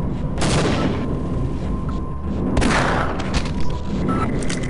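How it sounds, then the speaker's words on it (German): A grenade explosion in the video game Half-Life, with two heavy booming blasts a couple of seconds apart over a steady background din. "Oh, und eine Granate."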